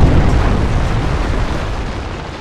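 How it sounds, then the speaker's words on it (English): A Predator missile strike in Modern Warfare 3 multiplayer: a single loud, close explosion whose broad, booming rumble decays gradually over a couple of seconds. "Predator missile inbound."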